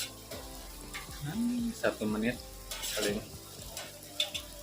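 Pure cow's milk warms in a pan while being stirred, with soft scraping and faint sizzle plus light clinks of the utensil against the pan, as someone talks over it.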